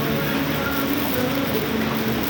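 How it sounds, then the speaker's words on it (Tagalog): Steady rain falls outdoors, a dense, even hiss of drops that stays constant and fairly loud throughout the short stretch, with no voices over it. "Ayan, may ulan."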